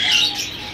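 A cockatiel gives a short, shrill squawking call at an outdoor Sunday bird market in Bahawalpur, loud and close, lasting under a second with no voices over it.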